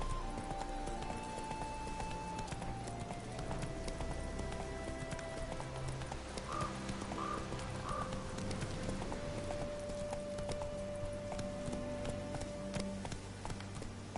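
Horse hooves clip-clop at a steady running pace in a PS4 video game, continuous over a busy game soundtrack with a brief whinny-like sound midway.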